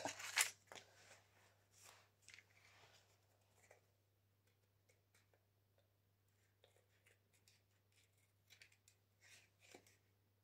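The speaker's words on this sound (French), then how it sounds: "Comme ça, je peux découper, évidemment, ce qui dépasse comme d'hab." Scissors trimming excess material from a craft project, with a brisk snip at the start, then scattered faint snips and rustles over a low steady hum, quiet and close.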